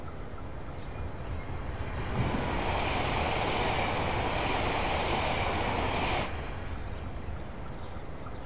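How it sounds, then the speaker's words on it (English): A train passes in Train Simulator Classic on a Class 375 London to Ramsgate run, a rushing whoosh that swells suddenly, holds for about four seconds and then cuts back to a steady background rumble. "Train distracted me."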